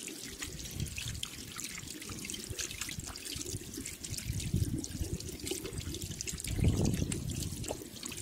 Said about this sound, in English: And wash it properly with the running water.